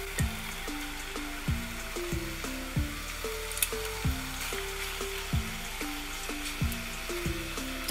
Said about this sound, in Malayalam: എന്നിട്ട് നമ്മുടെ ചെമ്മീനെ അതിലിട്ടിട്ട് നമുക്കത് ഫ്രൈ ചെയ്തെടുക്കാം